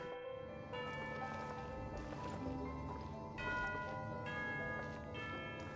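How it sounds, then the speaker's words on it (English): Bell tones ring out in Genshin Impact's Ann of the Narzissenkreuz world quest, with several struck chimes sustaining over a layered, steady game soundscape. "You hear the sound of a bell again."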